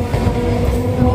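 Passing train crossing a local train at Muragachha, a brief steady low rumble of rolling wheels heard up close from on board.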